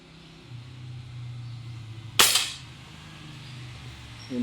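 A springer break barrel air rifle fires once with a sharp, loud crack midway, standing out over a low background hum.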